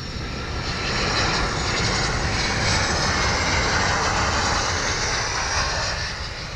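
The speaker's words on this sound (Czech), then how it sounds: "Dlouho očekávané větší letadlo se blíží." A larger fixed-wing airplane approaches to land at an airport, its engine roar swelling and holding steady at moderate distance, heard alone without talk.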